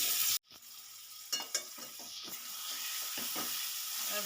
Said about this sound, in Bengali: ভালো করে আমি চিংড়ি মাছটা এরকমভাবে কষাতে থাকি